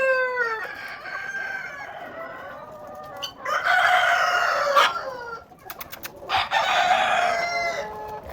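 Australorp chickens and roosters on a poultry farm, with a rooster crowing in long drawn-out calls mixed with clucking, fairly distant and set against a low background hum.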